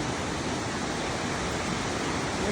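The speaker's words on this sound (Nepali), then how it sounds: "झरना हेर न झरनाको साइडमा हुन्छ" Steady broadband rush of a mountain waterfall along a trekking trail in Nepal, a continuous loud roar with no breaks and no voices.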